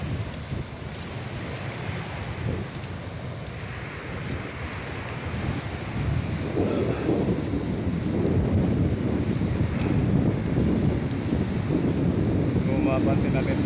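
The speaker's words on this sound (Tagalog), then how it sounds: "mapansin natin sa dagat, medyo maalon po siya." Rough sea waves wash onto a shore in Laua-an, Antique, with strong wind buffeting the microphone; the surf swells louder in the second half, and a voice speaks faintly in the mix.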